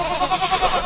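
A little goat in a barn bleats close by, a loud wavering cry with a pulsing, quavering rhythm that fills the moment.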